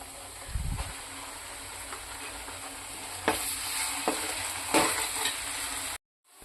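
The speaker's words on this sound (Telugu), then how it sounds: "మసాలా కూడా బాగా ఫ్రై అయిపోయింది." Masala with chili powder fries in a pan for a small-fish curry, giving a continuous hissing sizzle with a few scraping stirs and a thump early on before the sound cuts off abruptly.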